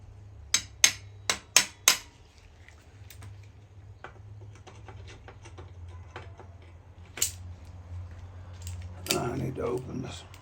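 Hammering while working in gloves in a workshop: a quick run of five sharp metallic strikes, then scattered lighter taps and one more hit, ending in a brief rattling clatter.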